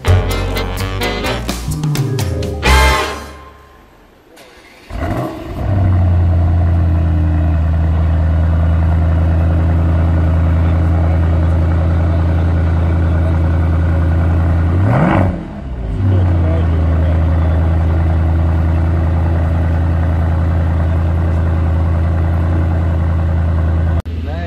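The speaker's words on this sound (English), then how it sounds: "Lamborghini, old Lamborghini." An old Lamborghini engine revs hard at first, then settles into a loud, deep, steady idle drone. A second quick throttle blip rises and falls about two-thirds of the way through.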